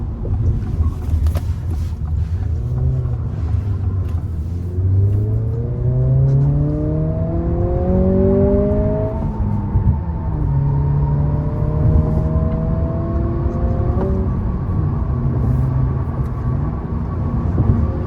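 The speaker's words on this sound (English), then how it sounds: "It's a turbo 4-cylinder," A 2023 Acura Integra A-Spec with a 1.5-liter turbo four-cylinder and six-speed manual accelerates, engine drone rising in pitch through a gear, dipping at a shift and climbing again, loud inside the cabin with road and wind noise beneath.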